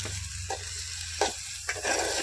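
Tomatoes sizzle steadily in a hot pan of onion, garlic and chilli tempering, with a few short scraping stirs of a spoon breaking through the crackle.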